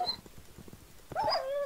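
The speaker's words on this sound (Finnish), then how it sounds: "Ihme koira." Dog whimpering in a Minecraft Hunger Games match, a short high whine and yip near the end after soft game clicks and movement sounds.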